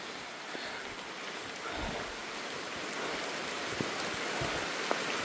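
Heavy rain pouring down in a forest around a small hut, a dense, steady hiss of drops on surfaces that swells slightly louder partway through, with a few sharper drips standing out.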